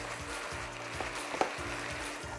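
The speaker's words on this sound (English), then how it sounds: "Okay, our beef is coming along nicely." Ground beef for chili frys in a pan with a soft, continuous sizzle, close and fairly quiet, broken by a few faint clicks.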